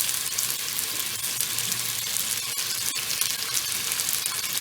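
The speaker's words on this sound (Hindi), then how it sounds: "इसमें हम अपनी भिंडी को फ्राई कर लेंगे। इसको अच्छी सी फ्राई करना है।" Okra (bhindi) frying in oil in a pan, a dense continuous hiss of bright sizzling that stays even and fairly loud throughout, with no voices.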